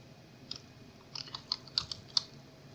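Quiet typing on a computer keyboard while entering a name during Gmail account setup: a few scattered soft keystrokes, then a cluster of sharper clicks toward the end, with no speech.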